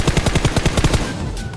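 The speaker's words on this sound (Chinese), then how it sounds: "爆炸了，看来汽油桶还是正常的" A gasoline barrel in a video game is shot with a rapid burst of gunfire, about nine sharp, evenly spaced shots at close range, ending in a duller burst and fading noise.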